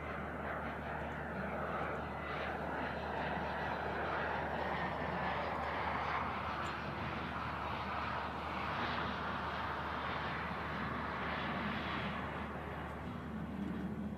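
Cessna Citation business jet landing on runway 05 left at Manchester Airport, a steady distant engine roar that holds level throughout, heard from afar with a faint low rumble and no talk.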